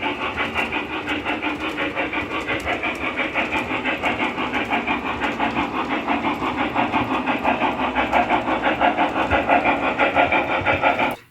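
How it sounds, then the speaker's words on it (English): A mid-2000s Lionel TMCC O gauge model steam locomotive sound system chuffs in a steady, even rhythm with a hissy edge, continuous and fairly close for about eleven seconds, with no talking. "take a listen to this Lionel TMCC steam engine from the mid-2000s."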